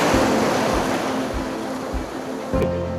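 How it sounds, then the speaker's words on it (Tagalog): Heavy ocean surf rolls and crashes steadily, close by on the shore at night, with wind buffeting the microphone throughout. "Yan, laki ng alon, no?"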